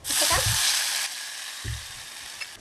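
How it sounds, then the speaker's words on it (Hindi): Gram flour batter hits hot tempering in a pan and sizzles loudly while being stirred, the crackle easing after a second, with soft scraping of the spoon following. "और अब हम ये घोल को चलाते हुए डालेंगे।"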